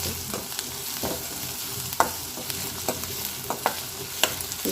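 Sliced onions fry with curry leaves in a hot pan for tomato pachadi, a steady crackling sizzle near the microphone punctuated by several crisp spoon taps and scrapes as they are stirred.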